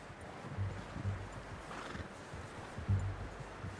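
A horse in Red Dead Redemption 2 being hitched, with soft hoof clops and a short whinny, close and fairly quiet over a low outdoor ambience.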